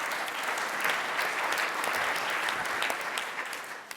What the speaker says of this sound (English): I think that's something to clap for.